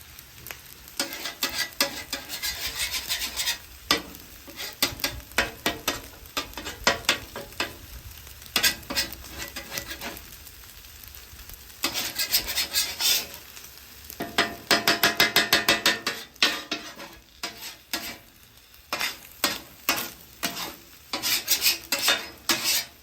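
Eggs scrambling and frying among chicken fried rice in a hot pan, a loud crackling sizzle in repeated bursts with spatula scraping and clinks, close and without speech.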